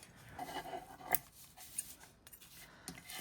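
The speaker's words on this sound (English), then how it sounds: "I don't like cutting threads off, but let's cut some off." Scissors snipping loose threads off a handmade sheet-music ephemera pocket, a few quiet, close, sharp snips spaced irregularly against a soft background.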